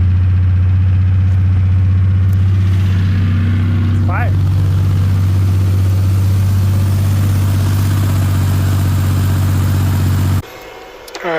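Rebuilt 4.0 engine in a 2001 Ford Ranger runs with a loud, steady low idle that holds for about ten seconds, then cuts off abruptly into quiet.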